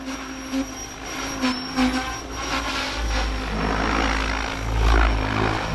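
Whirring motor and rotor drone of a Mikado model helicopter with a Vbar controller, a steady whine with a low throbbing hum that swells slightly toward the end.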